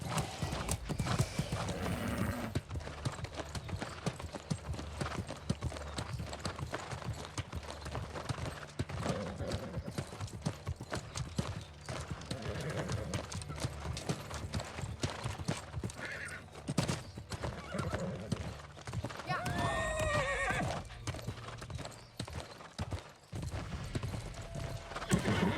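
Horse hooves clopping steadily while riding in the game New World: Aeternum, a continuous close rhythm with a brief whinny near the end.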